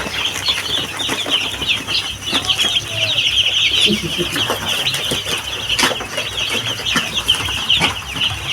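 Dense, steady high-pitched peeping from many chicks, with occasional wing flutters and soft clucks mixed in throughout.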